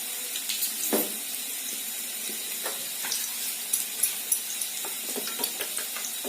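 A little water is poured onto ground cumin and coriander powder to soak them, a soft, close trickle with faint clinks and splashes, fairly quiet against a hushed kitchen background.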